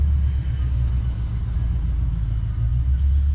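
A C4 Corvette with a TPI L98 V8 runs close by, giving a steady, loud, deep engine rumble with no revving and no talk.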